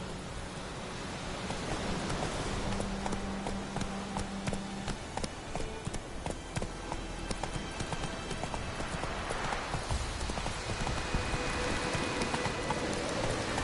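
Roach the horse galloping in the video game The Witcher 3, a rapid, steady clip-clop of hooves at close range under a constant wash of background noise, sustained throughout.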